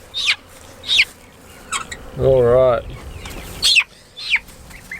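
Australorp crossed with Plymouth Rock chickens cluck in short, close bursts, with one longer drawn-out squawk in the middle, while a person briefly speaks.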